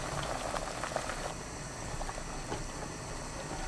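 Seaweed soup with mugwort rice balls boiling in a pot, a close, continuous bubbling roar with a dense even texture and no voices.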